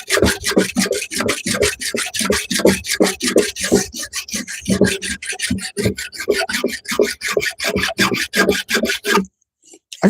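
Hand file rasping across a workpiece in fast, steady back-and-forth strokes, loud and close, continuing without pause for several seconds and then stopping abruptly.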